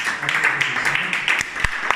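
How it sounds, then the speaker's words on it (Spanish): Loud, dense applause from a church congregation just after a spoken prayer, steady clapping filling the whole moment with a few sharper claps standing out. "Den un fuerte aplauso."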